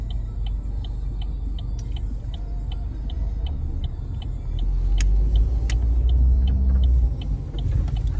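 Steady low road rumble inside a car on a Kansas drive between Russell and Hays, with a regular turn-signal tick running throughout; the engine and road noise swell louder midway as it slows to pull in.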